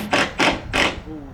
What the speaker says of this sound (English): and we are finishing sanding